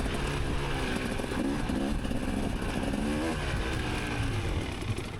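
Motorbike engine on a single track at an ATV park, a close, rough, steady drone with wavering pitch that runs throughout without a break.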